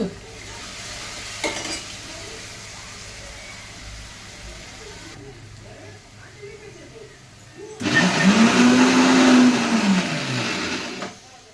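A mixer grinder crushes red chillies, peanuts and cumin with a little buttermilk. Quiet talk and kitchen clatter come first, then a loud, close whirring burst with a rising and falling whine lasts about four seconds.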